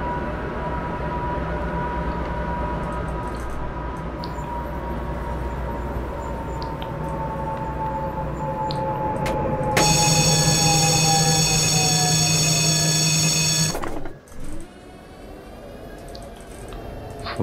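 Tram rolling along the track in the OMSI 2 simulator, a continuous rumble with a falling whine, then a loud high-pitched squeal for several seconds before cutting out and the rolling resumes more quietly.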